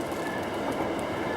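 A train rumbles steadily through the Boronia No.1 railway tunnel near Cowan in Sydney's Hornsby Shire, wheels clattering on the rails in a continuous close roar with faint squeals above.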